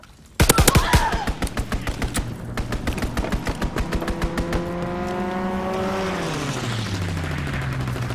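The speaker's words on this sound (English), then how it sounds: "Enemy strafing run inbound!" Strafing gunfire in Call of Duty: WWII hits as a sudden burst of rapid, loud repeated shots that gradually thin out, while an aircraft engine drone rises and then sweeps downward as it passes.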